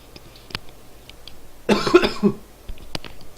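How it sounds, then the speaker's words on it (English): A single harsh, close cough bursts near the middle, surrounded by quiet room sounds and a couple of small clicks, in the PC game The Long Dark. "I've still got this irritating cough"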